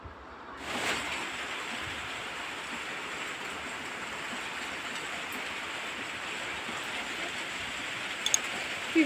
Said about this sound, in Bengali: বৃষ্টি বন্ধুরা দেখতে তো পাচ্ছ বন্ধুরা, প্রচণ্ড বাইরে হচ্ছে।